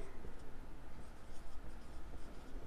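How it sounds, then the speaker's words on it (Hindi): Chalk or marker scratches across a classroom board while a dividend problem is worked out, a continuous rough scraping, close and fairly quiet, with no talk over it. "अब हम लिखेंगे इधर"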